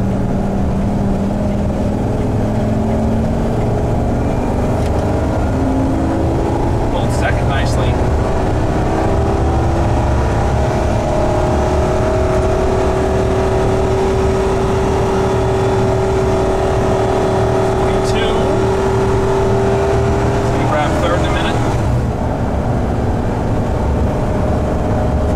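A car engine revs hard and holds high with the transmission stuck in first gear, a loud continuous whine rising and sustained, with people talking briefly over it.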